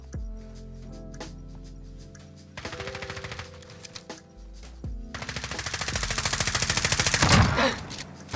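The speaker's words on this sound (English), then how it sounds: "he's just shooting the forklift" Rapid automatic gunfire in a Call of Duty Search and Destroy round, with bursts through the first half and a long, loud, steadily building stream of rounds near the end.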